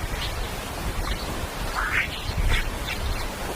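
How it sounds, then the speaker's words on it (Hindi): Sonified radio waves from a solar storm, heard as a steady hiss of noise with faint, quick sweeping chirps scattered across a few seconds. "यह उन डिस्पोज बीप की आवाज है जो सौर तूफानों के जरिए सफर करती है।"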